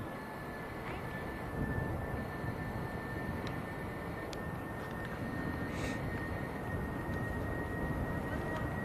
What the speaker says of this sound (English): This is an Airbus A319.